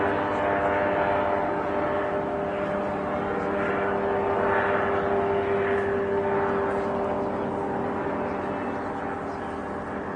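A light aircraft rolls out after touching down at Barton Aerodrome, with a steady propeller-engine drone at moderate distance over a constant background hum, and voices speaking faintly beneath it.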